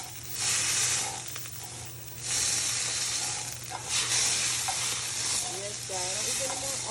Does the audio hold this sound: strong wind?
no